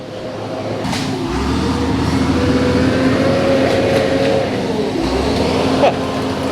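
Heavy bulldozer driving through a swamp, its diesel engine droning steadily up close with rising and falling revs as it churns through the mud.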